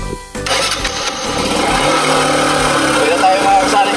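A motorcycle engine starts on a farm trip, a brief crank followed by a loud, steady running rumble that stays close throughout, with voices faintly under it.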